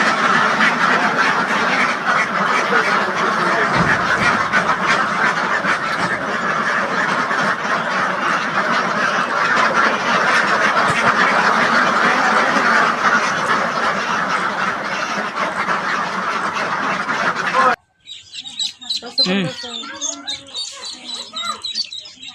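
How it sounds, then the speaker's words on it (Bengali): A huge crowd of white Indian Runner ducklings and ducks at a poultry hatchery keeps up a dense, continuous chorus of peeping and quacking, then a few louder separate quacks stand out after a sudden cut. "রানিং হাঁসের বাচ্চা আছে হিউজ পরিমাণ"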